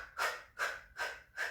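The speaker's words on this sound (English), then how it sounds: "we can do percussive breathing" Four sharp, forceful exhalations in a steady pulse during a Pilates workout, percussive breaths pushed out close to the microphone at even intervals.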